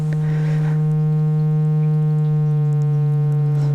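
A steady, pure sine-like electronic tone from an XAOC Koszalin digital synthesizer module holds at one low pitch, clean and unwavering, with a faint shift partway through.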